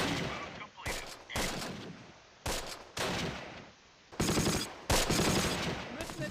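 Sniper rifle and small-arms gunfire crackle in the World War II strategy game Close Combat: Last Stand Arnhem, with loud bursts of shots arriving in several separate volleys and brief pauses between.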